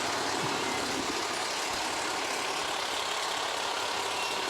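A Maple Grove fire truck rolls past in the 2015 Osseo parade, a steady broadband engine rumble and road noise that stays loud and unbroken throughout, with no talk.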